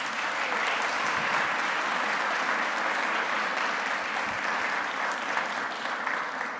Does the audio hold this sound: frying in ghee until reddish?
no